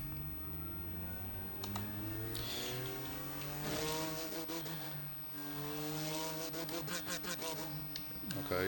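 A BMW M2 CS race car engine in the Automobilista 2 racing game, revving through gears with rising and falling harmonic tones, some tire squeal and shifts, loud and continuous.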